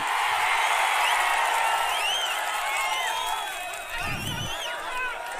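A large crowd at an outdoor political rally in Bukkarayasamudram, Andhra Pradesh, cheering and whistling loudly throughout, a continuous roaring wash of voices with a brief muffled thump near the end.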